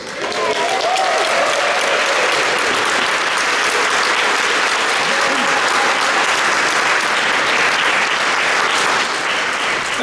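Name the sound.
applause for the actors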